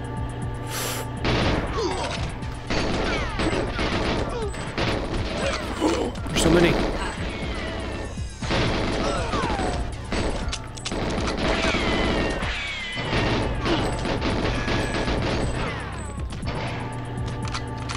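Gunfire in GoldenEye 007 while strafing through a bottling-room level, scattered game shots and impacts amid clanking game effects, with someone commenting throughout.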